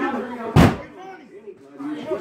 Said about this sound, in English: Stop banging the door, man.